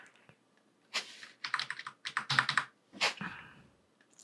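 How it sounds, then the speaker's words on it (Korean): Keyboard arrow keys pressed repeatedly while shapes are nudged in Illustrator, a quiet, close cluster of irregular clicks with brief pauses between taps. "키보드 방향키를 위로 해서 이렇게 올려주시고"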